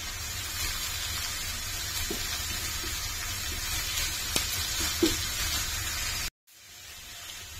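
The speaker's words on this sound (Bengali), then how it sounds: "ভালোভাবে মশলাটাকে কষিয়ে নিব।" Garlic paste, ginger paste, whole garam masala, cardamom, cinnamon and bay leaves sizzle steadily in a pan while being stirred, with a few soft scraping knocks, ending in a brief cut to quieter noise.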